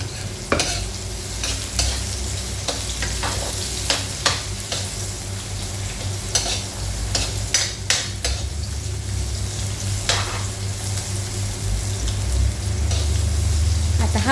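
Garlic frying in a hot pan, a steady close sizzle broken by repeated scraping and clinking of a utensil stirring against the pan.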